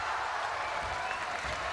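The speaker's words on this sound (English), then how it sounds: "Further encouragement for this Syrian crowd." A Syrian crowd at a basketball game against Kazakhstan applauds in a steady, distant patter, heard faintly under a commentator's talking.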